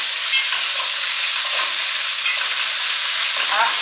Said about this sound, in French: On met au sel et on tourne.